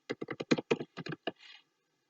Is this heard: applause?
no